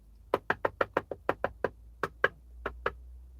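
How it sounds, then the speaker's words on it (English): Sharp knocking on a window, about fifteen close, crisp raps in a quick uneven run with a short pause partway through, heard alone against quiet. "but then the knocking began"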